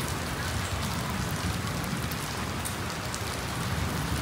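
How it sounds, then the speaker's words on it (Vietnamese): Heavy, steady rain pours down without a break, a dense close wash of drops drumming on surfaces with no voices. "mới mưa mà sao thấy mưa này chắc mưa dầm quá mọi người mưa thấy cũng lớn á chứ không có nhỏ đâu nha"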